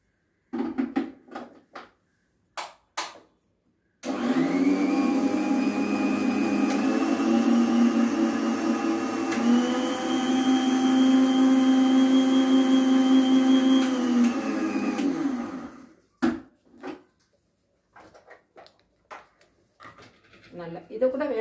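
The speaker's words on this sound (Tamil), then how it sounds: "இப்போ இதை ரவையை அரைச்சிடுறேன்." A mixer grinder grinds semolina (rava) for a South Indian adai dinner, a loud steady motor whine lasting about eleven seconds with a slight pitch shift, and brief clattering handling noises before and after.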